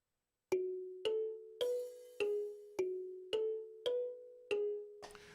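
A Yamaha DTX electronic drum pad is struck eight times at an even pace, each hit a bright, bell-like layered tone of four stacked notes that rings briefly and decays, close and clear.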